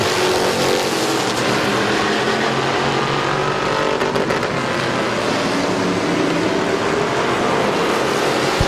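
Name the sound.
race cars racing at Midvale Speedway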